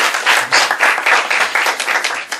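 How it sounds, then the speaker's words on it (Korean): A church congregation breaks into brief, lively applause, many hands clapping together in a dense, continuous patter. "박수 한번 드려주세요."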